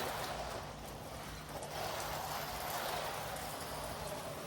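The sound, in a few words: rain falling in a backyard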